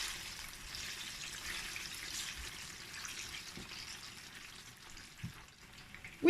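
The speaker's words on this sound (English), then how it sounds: "I have my plantain frying." Plantain slices fry in hot oil for dodo, giving a steady soft sizzle and crackle with a few small pops and a sharper clatter near the end, and no talk.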